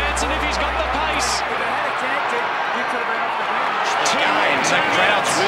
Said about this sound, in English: The crowd's really lifted.